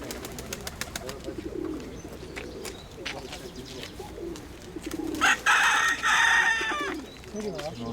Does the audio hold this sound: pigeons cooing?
yes